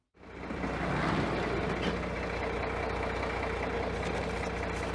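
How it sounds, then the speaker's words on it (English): A steady, loud engine idle from a Mac Tools spare backup truck, a continuous low rumble with a slight knocking texture holding constant throughout, with no talking. "This is the backup truck, because the other one broke."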